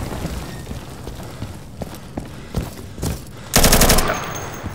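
A grenade goes off inside a room during a team shooter match, a loud heavy blast arriving after a string of scattered gunshots and sharp cracks, with the boom's rumble trailing off slowly.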